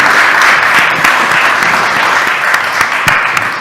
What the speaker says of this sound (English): Look, I got to get back used to the applause.